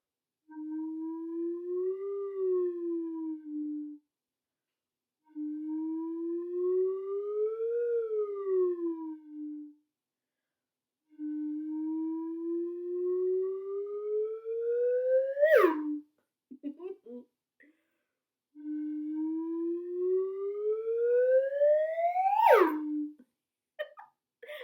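A slide whistle plays four sliding tones, each rising then falling or climbing high before dropping, separated by short pauses, clear and close with no voices.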